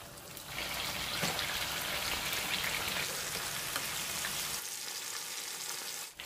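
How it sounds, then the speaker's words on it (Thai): Fish frying in hot oil makes a loud, dense, continuous crackling sizzle up close, easing slightly near the end, with no voices. "เราจะต่อด้วยการทอดปลาเลยเนาะ"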